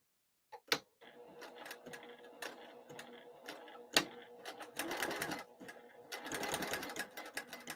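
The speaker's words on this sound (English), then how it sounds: "I'm just going to stitch right down there and back tack at the top and the bottom." A home sewing machine stitches a bag lining in short runs with brief back-tacks, a close rapid mechanical chatter that starts and stops, with soft handling noises between bursts.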